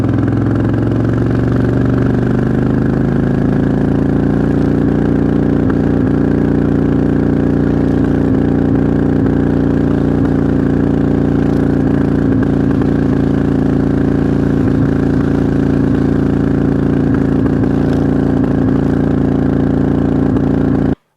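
A 2006 Harley-Davidson Dyna motorcycle with a rough-running engine rumbles steadily for about twenty seconds, loud and close, with a low idle that settles into a constant throbbing drone and occasional faint clatter.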